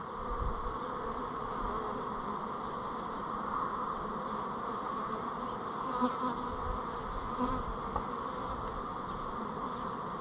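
Honey bees buzz steadily around a hive brood frame, a dense, even hum that runs continuously at close range with small flickers of individual bees, and no voices over it.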